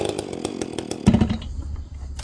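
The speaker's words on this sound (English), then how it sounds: "I do it with the chainsaw" A chainsaw engine rattling close by, then revving up harder partway through as it bites into wood to cut woodturning bowl blanks.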